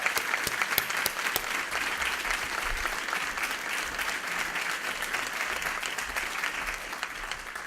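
An audience claps steadily and continuously to welcome the college president to the podium at a convocation ceremony, sustained applause heard from within the hall.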